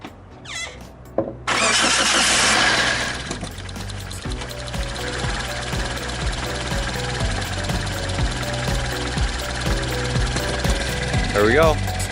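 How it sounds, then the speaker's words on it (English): A 2005 Toyota Corolla with a cracked exhaust manifold cranks briefly and fires up, settling into a loud, close, rhythmically ticking idle, with a voice heard briefly near the end. "I'm gonna go ahead and start the car"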